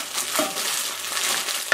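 Spring onions being stirred into a lumpia filling in a pan, a soft continuous scraping and rustling of moist ingredients, close and moderately quiet, with no voices.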